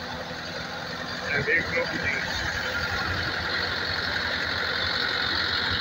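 A YTO EF604 tractor engine, run with a thresher at low RPM, idles with a steady, even chug close by while someone speaks briefly over it.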